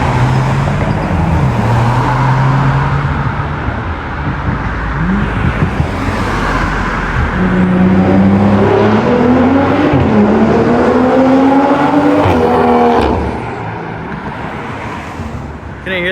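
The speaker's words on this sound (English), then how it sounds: "Couldn't hear the turbo because he was just pounding it with his exhaust instead." BMW M340i exhaust revving loudly as the car pulls away and passes, engine pitch rising in several climbing sweeps under heavy wind buffeting on the microphone, then fading at the end.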